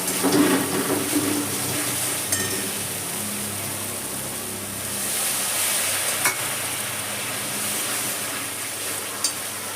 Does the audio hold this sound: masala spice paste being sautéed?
yes